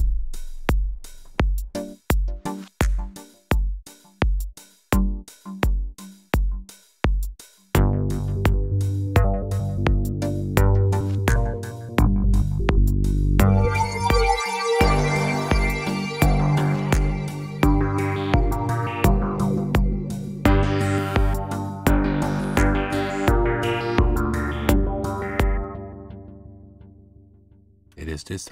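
A Go2 synthesizer preset played over a slow beat: evenly spaced punchy pulses open, then a sustained, evolving tone with repeating sequenced notes swells and fades away, clear and upfront.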